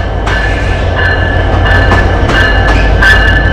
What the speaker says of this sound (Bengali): এই যে ধূমকেতু ঢুকলো বিমানবন্দর রেলওয়ে স্টেশনে